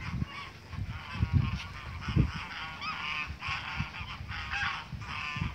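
Geese honk repeatedly in a noisy, overlapping chorus by a lake in Cachoeira Alta, Goiás, fairly close and steady throughout, with no talking.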